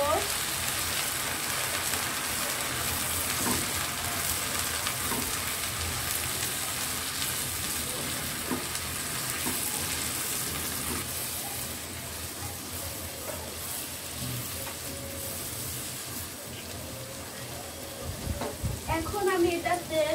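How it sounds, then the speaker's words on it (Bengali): Ginger, garlic and onion paste fries in a pan for a spiced beef bhuna, giving a steady close sizzle with scraping stirring throughout and a voice now and then beneath it. "এখন আমি আদা বাটা, রসুন বাটা, পেঁয়াজ বাটা দিয়ে দিব। ভালোভাবে নাড়িয়ে নিব।"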